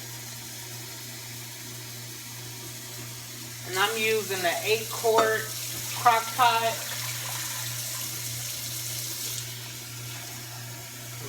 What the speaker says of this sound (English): Fill your crock pot up halfway with just water.